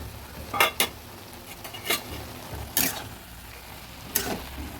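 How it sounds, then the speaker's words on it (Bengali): A lid handled on a cooking pot of cabbage, several sharp metallic clinks and scrapes spaced apart over a faint steady background, close by, no talking. "ঢাকাটা তুলে দেখছি"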